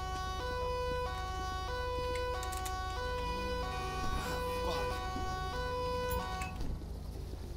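Police car siren in the video game GTA 5, a loud stepped wailing tone cycling steadily over a low engine hum, with someone briefly speaking over it near the middle.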